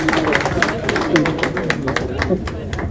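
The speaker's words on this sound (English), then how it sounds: "he deserves a bigger round of applause" A crowd applauds at a meeting with labour organizations, distinct claps in a steady rhythm mixed with murmuring voices and background chatter throughout.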